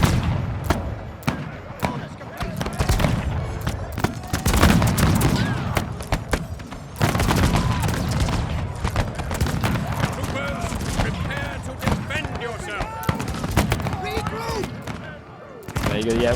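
Musket volleys and scattered gunfire crackle continuously in the Pike & Shot Total War battle game, a dense, loud roll of overlapping shots with a voice commenting over the din.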